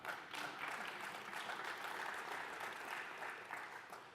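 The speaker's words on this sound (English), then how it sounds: "now you can clap." Faint, distant applause from a small audience at a Microsoft OneDrive presentation, a soft steady patter of clapping lasting a few seconds with no talk over it.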